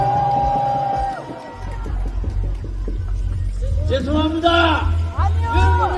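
Outdoor political rally crowd in Busan, a loud mass of cheering, yelling and whooping with applause under it, rising and falling in waves. A voice over the loudspeaker carries through the noise.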